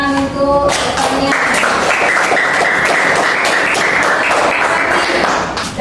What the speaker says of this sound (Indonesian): Tepuk tangan untuk rekannya.